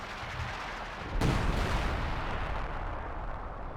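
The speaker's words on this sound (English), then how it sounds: "Now this would be a good time to use mechanized artillery to barrage the base." Mechanized artillery barrage in the video game Company of Heroes 2: a sharp blast at about one second, then a dense, rumbling roll of shellfire that stays loud to the end.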